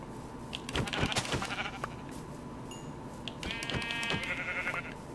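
Sheep bleat in Minecraft: two distinct bleats, one early and a longer one later, ring out over a continuous game background hum.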